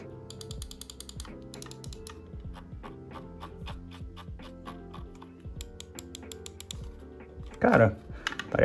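Clicks from a gaming computer mouse, a run of sharp, close, evenly spaced ticks over a faint ongoing background, with a brief louder burst near the end.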